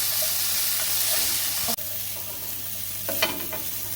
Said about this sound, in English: So we're just going to lightly saute this.